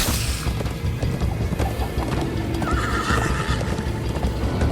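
Horse whinnying and galloping hooves in Minecraft Story Mode, with rapid clip-clop rhythm, crashes and thuds in a busy, loud game scene.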